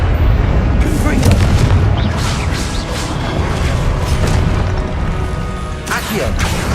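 Repeated Confringo fire spell explosions in Hogwarts Legacy, loud booming blasts with crackling bursts over a continuous rumble, while a voice talks throughout.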